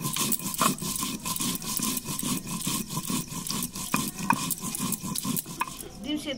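Ginger, dried and green chillies and cumin are ground by hand, producing a steady rhythmic rubbing and scraping that repeats in quick even strokes, close and moderately loud.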